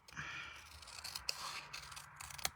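Scissors snip through card stock for a papercraft project, giving a close, quiet run of cutting and scraping with a couple of sharper clicks near the middle and end.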